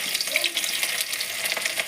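Chopped onions fry in hot oil for a fish curry, giving a steady, close, dense sizzle and crackle that runs unbroken with no voices.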